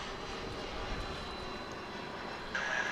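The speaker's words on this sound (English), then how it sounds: "Kind of start to hear the whine of the engines now." A UPS Boeing 767 sits at DFW International Airport, its jet engines giving off a distant, steady roar. A thin, high whine swells in near the end.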